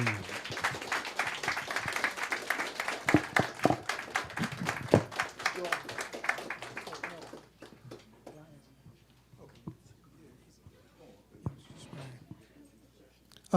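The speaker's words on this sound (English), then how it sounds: "So let's give him another round of applause." Applause for a keyboard and piano player at a Malcolm X tribute event, dense clapping for about seven seconds that thins out into scattered claps and taps.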